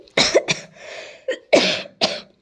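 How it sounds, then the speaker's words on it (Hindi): A short burst of several harsh coughs close to the mic, broken by brief pauses, with no talking. "मुझे खांसी आ गई थी।"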